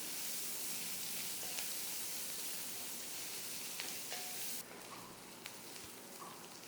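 Sliced shallots fry in prawn-infused oil with a steady, dense hiss and crackle that holds evenly throughout and softens slightly near the end.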